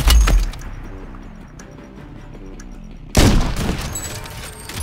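Gunfire in Call of Duty Warzone: a sharp opening blast, a stretch of low game ambience with a patterned hum, then a sudden loud burst of shots and crashing that rings on to the end.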